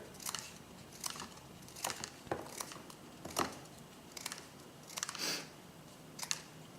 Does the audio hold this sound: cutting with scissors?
yes